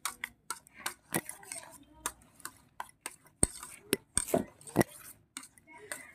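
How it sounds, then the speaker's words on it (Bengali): Egg and flour batter for gola roti being mixed in a bowl: sharp utensil taps and clinks against the sides with softer stirring between them, close and uneven, under quiet talk. "এবার আমি ভালো করে একটু মিশিয়ে নেব"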